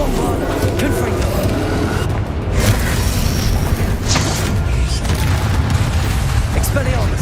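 Loud, dense spell-casting effects from Hogwarts Legacy, with booming blasts and whooshing bursts one after another over continuous noise, while a voice calls out spells.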